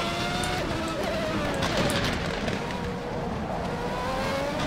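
Classic 1991 Formula 1 race cars, including Williams cars, scream around the Portland track in the racing game rFactor 2, with continuous high engine whines shifting pitch as cars run close together.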